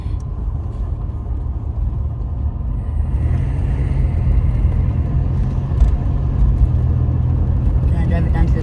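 A car on its first drive along a private road in Mexico, its engine and road rumble steady and close throughout, with people talking over it.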